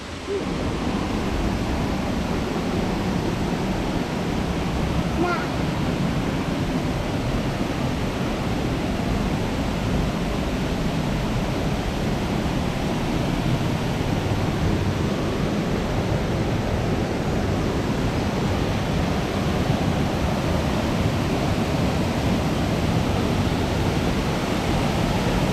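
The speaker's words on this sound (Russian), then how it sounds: "И вот он, друзья, водопад Ирина." Irina waterfall in Abkhazia pours in a loud, steady rush of broadband water noise that holds unchanged throughout, with no voices.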